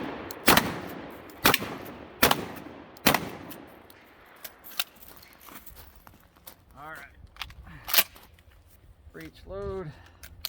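A Benelli Supernova 12-gauge pump shotgun fires 12-pellet buckshot: four loud, sharp booms in quick succession, a pause with quieter movement sounds, then another single blast. Someone talks briefly between the shots.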